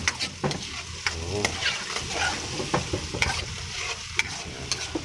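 Onions and chili are stirred in a sizzling pan for a catfish adobo in coconut milk, with a busy, close run of spatula scrapes and clacks over a constant frying hiss, and no voices.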